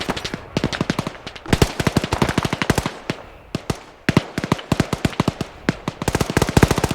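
Long-range gunfire in ARMA 3 in a battle between World War II, Vietnam-era and modern US forces: rapid bursts of sharp shots, machine-gun strings and scattered single cracks overlapping continuously, loud and dense with brief lulls.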